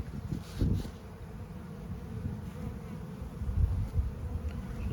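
Honeybees swarm over the frames of an open hive that may be failing, with a close, continuous low buzz that rises and falls slightly and carries no talk over it.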